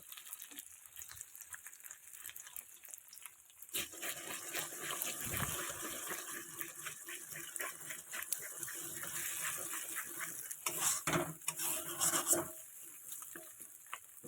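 Two eggs frying together in a little oil in a wok (kadai), with a pinch of salt added: a quiet start, then a soft, continuous broadband sizzle and hiss that swells slightly near the end.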